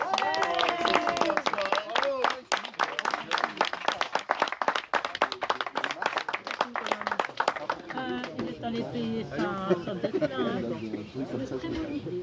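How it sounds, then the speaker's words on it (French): Guests at a beer tasting at Caro and Jérémie's place clap for their hosts, brisk hand claps and cheering voices mixed with loud talk, fading into chatter toward the end. "on peut applaudir"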